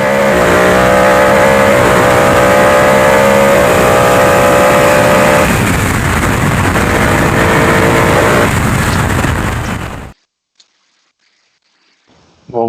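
A loud rally car engine roaring and revving hard close by during a hill-climb race, for about ten seconds, then cutting off abruptly into near silence.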